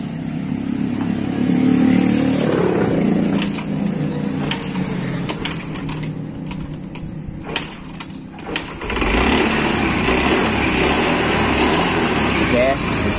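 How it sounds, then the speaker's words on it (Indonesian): Small motorcycle engine idling again after a leaking-valve fix, a continuous close, steady running drone with a brief dip midway, under someone talking over it. "bisa teman-teman lihat motornya hidup lagi, cuman sedikit berasap"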